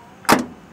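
A door on an old-model Mitsubishi L300 pickup shuts with one loud, close, solid thunk that fades quickly, with no voices.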